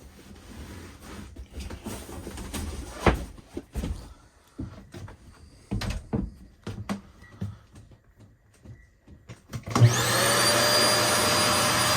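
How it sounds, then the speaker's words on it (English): The central vacuum in a 2022 Forest River R-Pod 171 travel trailer: after several knocks and handling clatter, the motor switches on near the end with a loud, steady, close whooshing drone. "That's going to be your central vac system."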